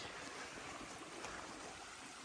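A backcountry creek flows near a trailside campsite, a soft steady wash of running water with a continuous broadband hiss, faint and unbroken with no voices.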